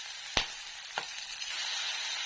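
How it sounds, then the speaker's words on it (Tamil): Chopped tomatoes sauté in a pan with a soft, steady sizzle, punctuated by two sharp clicks of a utensil against the pan early on, close but fairly quiet with no talking. "தக்காளி கட் பண்ணி போட்டிருக்கேன் தக்காளி நல்லா வதங்கட்டும்"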